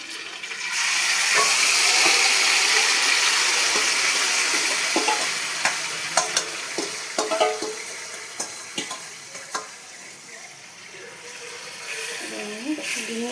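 Chicken marinated for an hour goes into hot oil for Hyderabad dum biryani, breaking into a loud hissing sizzle that gradually eases, with sharp clatters of stirring and a voice speaking at times.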